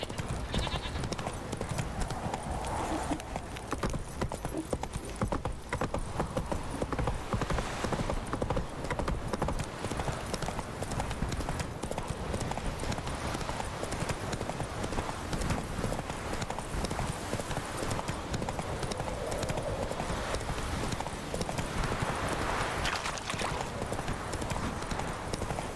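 Continuous rhythmic clip-clop of horse hooves at a steady trot in The Witcher 3, close and sustained, with occasional faint whinnies and bleats in the background.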